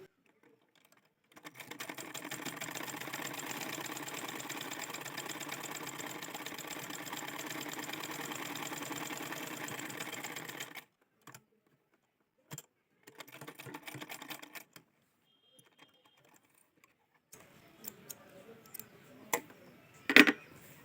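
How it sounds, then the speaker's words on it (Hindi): A sewing machine stitches a double-cup blouse in one long, steady run of about nine seconds, then gives a few shorter bursts and pauses, with light handling noises near the end. "हम इसमें और एक बार सिलाई लगा दूंगी"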